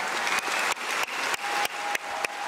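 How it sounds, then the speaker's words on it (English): Rapturous applause from a party conference crowd for a Labour party leader's speech, a dense, steady roar of clapping filling the room and holding loud throughout. "Rapturous applause"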